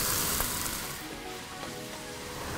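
Beef searing in a hot wok for fried rice gives off a steady, close sizzle that eases slightly after a brief louder start, with no talking.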